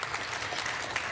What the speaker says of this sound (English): I stand up here, and you guys all give me an applause.